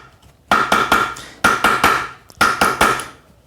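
A metal wire ring is struck on a steel mandrel in three quick bursts of four or five sharp, ringing hammer blows each, close and loud with short pauses between the groups.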